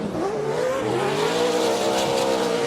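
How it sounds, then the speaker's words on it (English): Off-road race trucks with 900-plus horsepower engines roar loudly and continuously through a downhill double jump, engine pitch climbing and holding at high revs, close and steady with no talk. "Listen to that horsepower, 900 horsepower plus from these trucks as they're making that downhill double."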